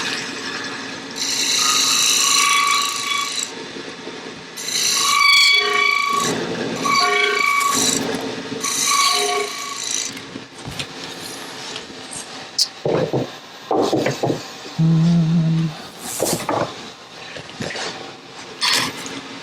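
A skew chisel used as a scraper on a wood lathe while turning a lidded box, giving a loud, sustained whirring scrape with pitched tones that breaks into shorter bursts and knocks near the end.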